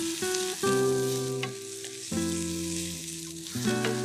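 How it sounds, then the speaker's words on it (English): Small shallots sauté in a hot pan at a resort cookery show, a steady close sizzle under sustained tonal music, with brief stirring clatters near the start and end. "This is the time you can add in a bit of shallots, Shallots, all right. small shallots. Again, saute it very nicely"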